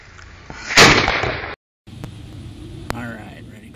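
A small cannon firing a 22 or 50 caliber blank: one sharp, loud, close blast followed by a brief ringing decay, with quiet talk and handling noise before and after.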